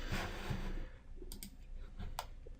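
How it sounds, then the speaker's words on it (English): A few soft, sharp mouse clicks on a web link, scattered across a short moment, faint and close over low background noise. "We'll just click on that."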